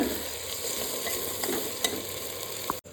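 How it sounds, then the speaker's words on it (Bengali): Mutton curry with homemade garam masala stirred in a pot gives a soft, steady sizzle with a few light scrapes of the spoon, ending in a sharp clatter as a lid goes on. "এবার একটু নেড়ে ঢাকা দিয়ে দেবো দু থেকে তিন মিনিট"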